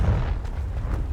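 A Confringo blasting spell is cast in the Hogwarts Legacy video game, giving a single deep, rumbling burst that fills the whole moment with a low, booming roar.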